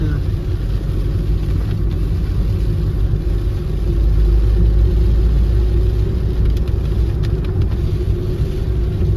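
A car engine rumbles steadily from inside the cabin while descending hairpin bends on a hill road at night, a low continuous drone with slight shifts in load as the vehicle rolls along.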